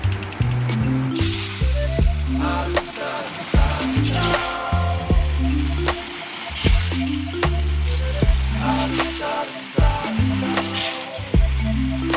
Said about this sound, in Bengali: এবার আমি তেল বসিয়ে দিয়েছি এবার এগুলো খুব ভাজবো